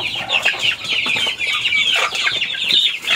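A sick, pale chicken clucking softly while it eats, with continuous chirpy bird calls and pecking sounds close by, no voices.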